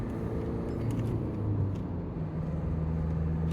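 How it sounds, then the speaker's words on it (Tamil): A Mahindra Scorpio N diesel pulls hard in third gear, its engine giving a low, steady rumble with a faint rising drone toward the end, heard from inside the cabin with no talk. "ஸோ 3rd கியரில் நான் இப்போ ப்ரெஸ் பண்ணுறேன்."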